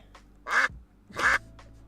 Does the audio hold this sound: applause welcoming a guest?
no